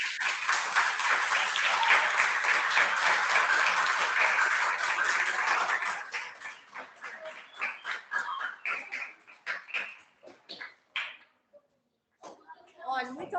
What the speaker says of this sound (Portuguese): é deles que querem bater-lhe palmas